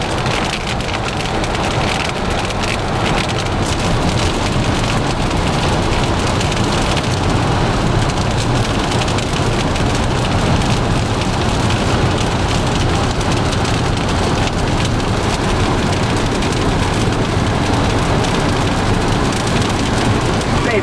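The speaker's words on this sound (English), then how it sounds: "Start getting a little hairy with the hail there for a while." Hail and heavy rain pound steadily during a tornado-producing storm in Laramie County, Wyoming, a loud, dense, unbroken drumming and clatter on surfaces for about twenty seconds.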